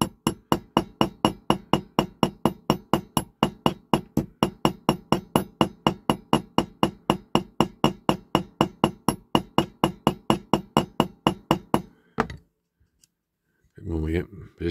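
Steady, rapid hammer taps on metal over a block while restoring a Matchbox King Size K17 diecast model, dozens of even, close strikes in a regular rhythm, then a pause and a brief voice at the end.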